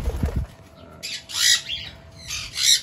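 Pet birds in a bird shop aviary, including albino and blue birds, give a low call and then several loud, harsh squawks in bursts, with a faint steady tone in the background.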